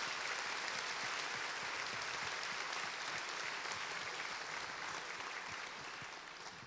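Sustained audience applause for Françoise Rossineau at a public talk in Nancy, a dense even wash of many clapping hands that holds steady and tapers slightly toward the end.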